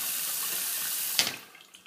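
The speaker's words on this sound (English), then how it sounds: "I'm just going to rinse this brush off and show it to you again" A Muhle Black Fiber synthetic shaving brush gets rinsed under a running sink tap: a steady close hiss of flowing water, then a brief splashing burst as the brush goes into the stream, fading afterward.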